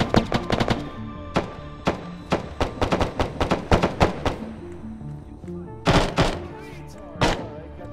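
Sharp gunfire in a military video game, a string of loud close percussive shots coming in quick bursts, then spaced single shots and a couple of heavier bangs, with a voice speaking over some of it.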